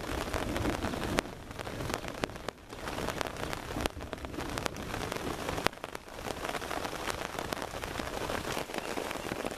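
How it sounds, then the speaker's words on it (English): Heavy rain pours steadily onto a surface at an overnight camp in Texas, a dense hiss with occasional louder drops and thumps throughout. "It's been raining for 2 hours."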